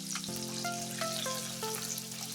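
Rice poured into a hot pan with tomatoes about to follow, frying with a steady close sizzle that flares in small crackling bursts as the grains hit the oil; no talking.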